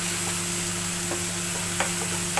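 Garlic and cumin fry on a high flame, giving a steady broadband sizzle with a few faint stirring clicks and no voices.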